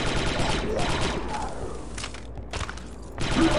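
Dense, rapid blaster gunfire from the video game Star Wars Republic Commando fills a bridge battle at Kachiro, a continuous loud fusillade with heavy thumps that briefly thins in a couple of spots before surging again.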